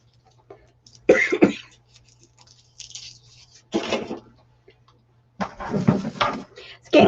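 Several harsh coughs and throat clearings in separate bursts, close by, with quiet pauses between them.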